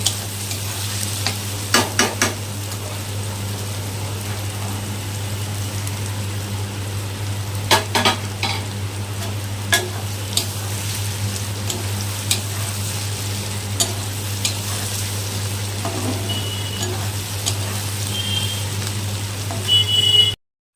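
Vegetable curry being stirred in a frying pan with egg baskets added, with steady frying sizzle and scattered scraping clicks of the spoon against the pan throughout.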